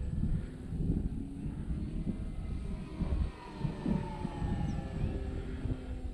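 A T-28 warbird model airplane in flight, its engine droning steadily at a distance with a gentle rise and fall, amid wind and no talking.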